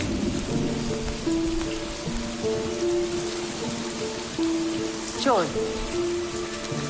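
Steady rain pattering on surfaces in a mountain setting, a broad continuous hiss with tonal music-like lines running through it and a brief sweeping tone near the end.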